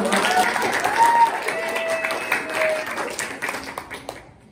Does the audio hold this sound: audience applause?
yes